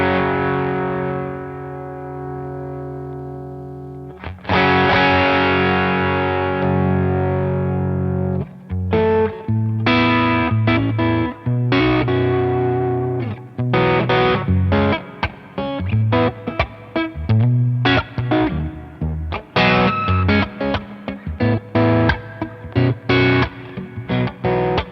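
Electric guitar played through a Jam Pedals gain pedal, a sustained distorted chord ringing out, then loud chugging riffs and chord stabs with brief gaps, close and alone with no talking.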